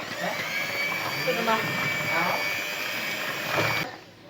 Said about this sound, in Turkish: Bunu blenderdan çektim.